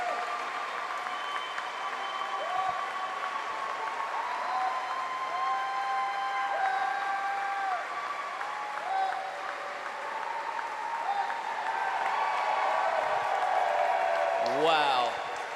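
Crowd at a swimming race during the 2019 Department of Defense Warrior Games, cheering and applauding steadily throughout, with an announcer talking over it and a louder surge near the end.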